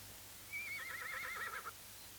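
A horse gives a single long, wavering neigh in a 1977 war film scene, fairly faint and slightly distant over quiet background, lasting about a second; hoofbeats are not distinct.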